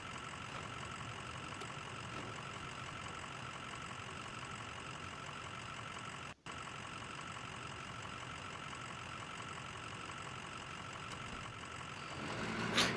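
A Ford OBS crew cab with a 6.0L engine swap in the SnowRunner video game idles steadily throughout, a loud, constant engine drone with a brief dropout midway and a slight swell near the end, with no talking.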